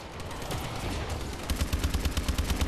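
Rapid automatic gunfire rattles in the Exo Zombies video game, a dense burst of shots that grows into a steady pulsing stream of rounds near the end, with no voices.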